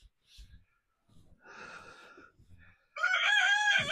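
A small bird, a rooster or chicken, is in a farm cellar during concrete pouring. Its short clucks and rustles come first, then a loud, close crow bursts out near the end, with muffled voices around it.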